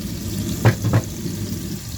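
Tomatoes sauté in a pan for a fish curry, a low steady sizzle with two brief stirring scrapes near the start, close and quiet, with no talking.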